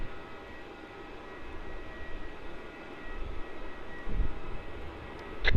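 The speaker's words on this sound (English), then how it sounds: "as that 737 departs to Perth" A Boeing 737 departing Melbourne Airport for Perth, its jet engine roar a steady distant rumble that swells louder toward the end, with no talking.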